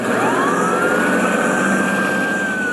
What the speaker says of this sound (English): Siren blaring, the squad car speeds over to the mole's dimly lit apartment.